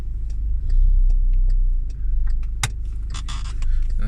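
A car pulls away on a driving test route in Barking: a loud, steady engine rumble that swells as it moves off, with scattered clicks and small rattles inside the cabin.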